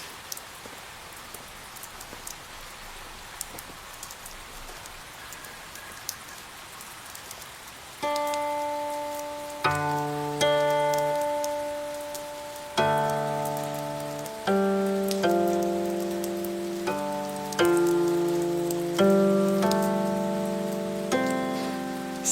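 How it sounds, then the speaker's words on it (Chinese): Steady rain patters and hisses alone for several seconds, then sustained melodic instrument notes enter and play over the continuing downpour. "下雨了"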